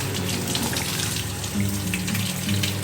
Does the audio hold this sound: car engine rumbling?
no